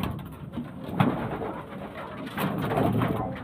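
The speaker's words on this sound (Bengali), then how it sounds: "তো এই যে পায়রা দুটো" A pair of old-lineage pigeons coo in soft, rolling bursts, close by and steady over a quiet background.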